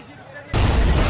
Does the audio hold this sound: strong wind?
no